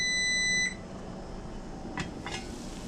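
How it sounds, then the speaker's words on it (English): A kitchen timer gives a single sustained electronic beep, loud for about half a second, then cuts off, leaving a low room hum with a couple of faint clicks. "That timer's going off."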